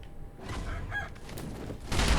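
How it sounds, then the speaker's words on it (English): Chicken clucking and squawking in the video game Sekiro: Shadows Die Twice, in a hidden forest area, a short burst of fowl calls over steady game ambience, ending in a louder rustling flurry. "Ah, chicken."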